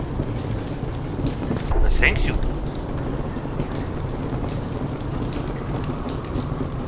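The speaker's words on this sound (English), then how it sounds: "Hallelujah, it's raining." Steady video game rain hisses throughout while a rumble of thunder swells briefly near the start, all at a moderate, even loudness with no voices.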